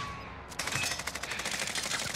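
Automatic gunfire in a video game: a sudden rapid burst of shots starts about half a second in and continues as an even, fast rattle over faint background sound.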